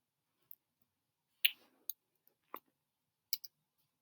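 Typing on a computer keyboard, a few sparse, faint key clicks spaced irregularly over a quiet background, no voices.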